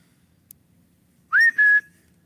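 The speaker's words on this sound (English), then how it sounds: "Listen after I whistle." A short human whistle at a camp on the Ohio River: a quick rising note followed by a held steady tone, two bursts close together in an otherwise quiet setting.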